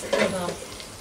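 Green chillies sautéing in oil in a pan, a brief bright sizzle with a stirring scrape near the start, close and loud, then settling into steady frying.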